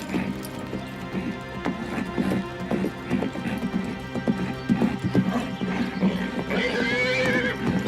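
A horse's hooves clip-clop in a quick, steady rhythm as it approaches a show jump, with a whinny rising near the end over a loud, continuous background.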